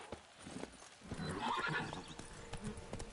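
Roach, the horse in The Witcher 3: Wild Hunt Blood and Wine, clip-clops along with hooves beating steadily and gives a loud neigh partway through. No one talks.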